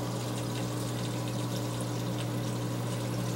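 Water pours steadily into the external overflow of a BeanAnimal aquarium drain, a constant close rushing and gurgling with a low hum beneath, unbroken from start to finish.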